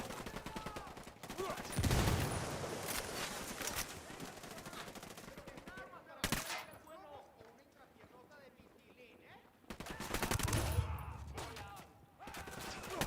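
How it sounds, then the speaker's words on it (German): A grenade blast and bursts of gunfire in the tactical shooter Ghost Recon Wildlands, with loud thumping impacts and rattling shots rising and falling, while several players talk excitedly over the noise. "Granate fliegt."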